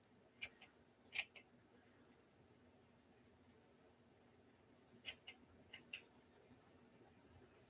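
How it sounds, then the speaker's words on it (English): Small sharp scissors snip through chunky yarn in crisp, isolated cuts, a pair of quick snips early and a cluster of three or four later, against a quiet room background. "These are my sharpest scissors, but they're so tiny that they're not really super useful unless the project is small"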